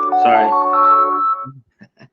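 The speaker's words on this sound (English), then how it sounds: "Sorry, phone going off alarm." A phone alarm goes off during a live sports-betting stream, giving a sustained, bright electronic tone for about a second and a half. A few short, softer blips follow as it dies away.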